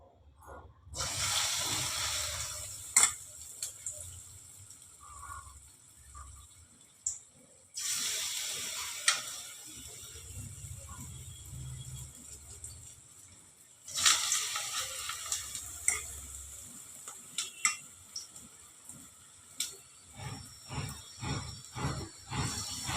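Drumstick flower fritters, made from a batter worked with hot oil, sizzle and crackle in hot oil, a continuous fry noise with bursts of louder popping and a few stir clatters.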